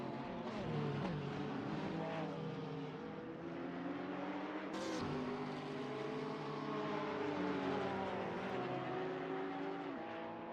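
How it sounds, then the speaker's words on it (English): Several race cars in a GT racing video game at Monza drone steadily, engine notes rising and falling as they accelerate and shift, forming a continuous mid-level roar with no talk. "Multiple cars now driving."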